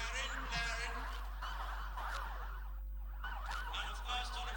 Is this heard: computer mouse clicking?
no